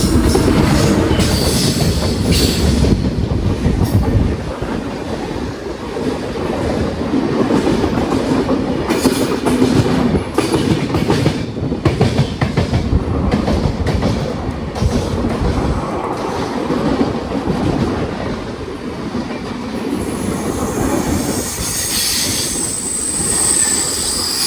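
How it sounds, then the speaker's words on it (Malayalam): The New Delhi–Thiruvananthapuram Kerala Superfast Express passes close by with a loud, continuous rumble and rhythmic clickety-clack of wheels over rail joints, lasting the whole stretch with no talking. "New Delhi Thiruvananthapuram Kerala super fast express വരുന്നുണ്ട്."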